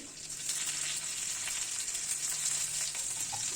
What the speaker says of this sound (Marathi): त्याच कढईत मी परत तेल घातलं मोहरी चिरलेला लसूण हिरवी मिरची